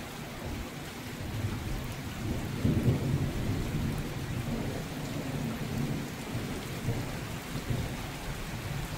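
A heavy thunderstorm pours steady rain while low rumbles of thunder roll through, swelling into a louder crack partway and continuing as a dense, constant wash with no voices.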